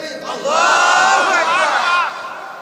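A crowd at an Islamic religious gathering loudly shouting the takbir in unison, one sustained, forceful chant rising sharply, holding for about a second and a half, then dropping away.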